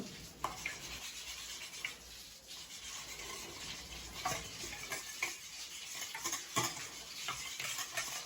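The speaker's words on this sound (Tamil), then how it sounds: "ரெண்டாவது முட்டையும் விடுறேன். இனி இதை அடிப்போம்." Eggs for chocolate brownie batter are beaten by hand in a bowl, giving a steady, fairly loud scraping and slapping of the whisk with quick irregular strokes and no talk.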